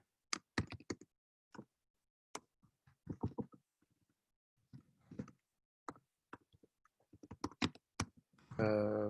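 Someone types on a computer keyboard in short, irregular bursts of crisp key clicks separated by pauses, close and quiet, while entering questions into an online course system.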